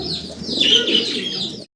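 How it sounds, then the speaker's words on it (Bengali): A pair of Shua Chandan pigeons coo softly amid a busy chorus of bird chirps, steady and close, ending in a brief cut. "এখানে খুব চমৎকার একজোড়া সুয়া চন্দন কবুতর"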